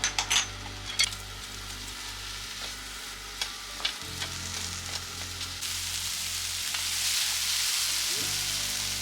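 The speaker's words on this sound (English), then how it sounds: "To the same pan, wipe off the excess oil if it's needed, add onion and white part of bok choy" Onion and the white part of bok choy fry on high heat in a pan, a steady sizzle punctuated by sharp clinks of a utensil stirring, the hiss swelling louder toward the end.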